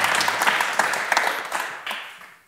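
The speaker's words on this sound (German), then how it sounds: "Ich habe gesagt, ich rufe nicht zum Applaus auf bei dieser Sendung, aber ich mache das jetzt nochmal." A German talk-show studio audience applauds, a dense patter of many hands clapping steadily for a couple of seconds before thinning out at the end.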